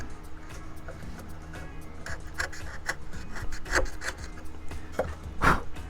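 Balsa wood on a Balsa USA Smoothie RC plane kit being trimmed: soft scraping and rasping strokes, irregular and close, a few louder scrapes standing out over a quiet background.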